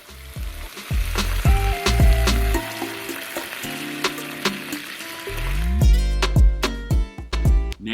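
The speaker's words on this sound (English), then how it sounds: "As the peppers and onions are cooking down, you want to add in some canned tomatoes," Onions, green peppers and canned diced tomatoes sizzle and fry in a paella pan, with steady crackling and occasional clinks and stirring scrapes close by.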